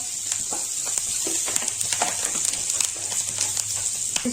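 Green chilli and chopped curry leaves sizzle in hot oil with a steady, crackling hiss and scattered sharp pops, close and fairly loud throughout.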